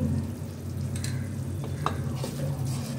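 Tamarind gravy for a brinjal and field-bean temple prasadam simmers and sizzles in a pan while a spoon stirs it, giving a steady bubbling hiss broken by a few soft scraping strokes at close range.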